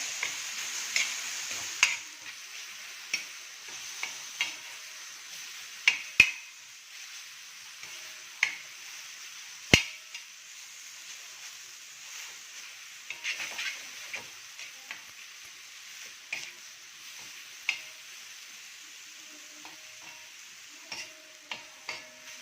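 Ground masala paste for halwa fish bharit sautés in a pan, a faint steady sizzle broken by regular close ticks and scrapes of a spoon stirring.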